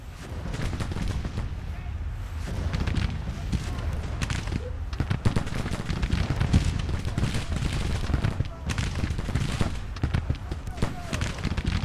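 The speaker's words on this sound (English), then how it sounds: "My artillery's counter battering right now" Artillery counter-battery fire in the Civil War strategy game Grand Tactician: The Civil War, a dense, continuous barrage of booming shots and crackling volleys layered throughout, with a voice talking over it.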